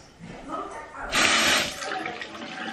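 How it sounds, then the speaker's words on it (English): Water runs from a sink tap in a home playhouse for rinsing soapy hands, a steady close rush that swells for about half a second in the middle and then settles under faint background noise. "Pour a little bit of water, then rinse."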